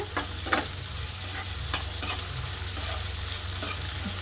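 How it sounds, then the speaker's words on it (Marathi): Potatoes sauté over a low flame for sabudana khichdi: a close, even sizzle runs throughout, with repeated spatula scrapes and light knocks against the pan. "याला स्लो आचेवर याला आलूला छान परतून घ्यायचा"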